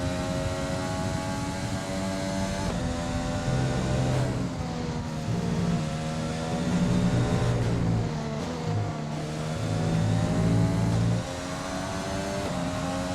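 Formula 1 car engine in F1 2020 at the Austrian GP, a loud, continuous high-pitched whine that rises and falls through gear changes and revs, with rising harmonics as it accelerates and brief dips on shifts, running alone throughout.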